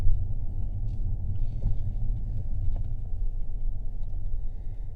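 Car driving on a suburban road in Brossard near Montreal, heard from inside as a steady loud low rumble of engine and tyres, with no talk.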